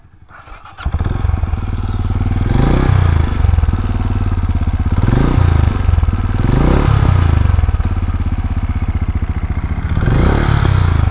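A Benelli Imperiale 400 motorcycle engine runs loud and close, its exhaust note rising and falling in several repeated revs over a steady rumbling idle.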